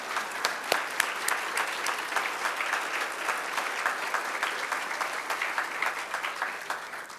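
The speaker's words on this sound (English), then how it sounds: "This would be a good time to clap." People at a school board meeting break into sustained applause after an accreditation recommendation, a steady roomful of clapping with a few sharper individual claps standing out near the start before it tapers slightly.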